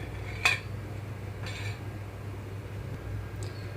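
A metal pan is set on a gas stove in a home kitchen, giving a sharp close clank followed by two fainter metallic taps over quiet background hum.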